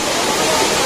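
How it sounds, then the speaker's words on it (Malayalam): Palaruvi waterfall, a 91-metre horsetail fall, roars as a loud, dense, continuous wash of falling water heard close up. "ഈ വെള്ളച്ചാട്ടത്തിന് 91 മീറ്റർ ഉയരമാണുള്ളത്"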